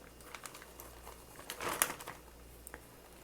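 A plastic bag crinkles and rustles as churro dough is loaded into it for piping, with light scattered crackles building to a denser burst midway and a few soft handling sounds after.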